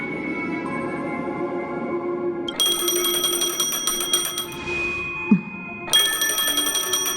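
A phone rings in Honkai: Star Rail video game, loud electronic trilling bursts of ringing starting partway through, pausing, then resuming, over a background music bed.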